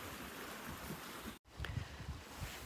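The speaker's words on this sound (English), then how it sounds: "Here, I'll let you listen. It's a creek." Mission Creek on the Pacific Crest Trail gives a steady broadband rush of flowing water, briefly cut off by a short gap before the rushing resumes.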